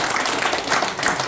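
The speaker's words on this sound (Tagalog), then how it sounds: "Palakpakan nga natin minsan pa ang Diyos na buhay ng ating pinagalaman sa palakpak" A church congregation claps together in steady, dense applause that fills the space at fairly close range, with no voices standing out.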